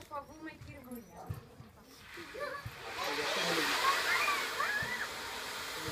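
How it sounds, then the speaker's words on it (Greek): A toilet cistern flushes with a steady rush of water that swells and holds at the end, after indistinct voices at a school celebration. "Καζανάκι είναι."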